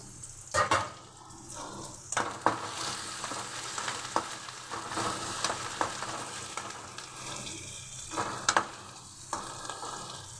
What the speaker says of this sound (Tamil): இப்போ வந்து வெங்காயம் வதங்கிட்டு இஞ்சி பூண்டு பேஸ்ட்டு 1-2 தட்டி போட்டது